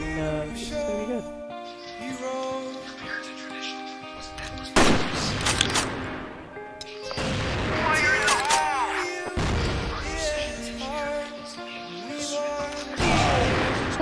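Sniper rifle shots from a 1v1 sniper match in the video game Crossfire ring out as several sharp, loud bursts spread through the clip, over a steady in-game music and sound bed, with no talk.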